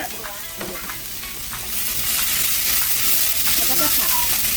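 Fingerroot, pepper and lemongrass being stir-fried for a Thai dish, a steady loud sizzle that swells after a couple of seconds, with intermittent scraping stirs and a little background talk.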